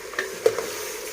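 A spoon stirs Saudi kabsa in a single large pot, giving a few short scraping strokes over a low, steady background with no voices.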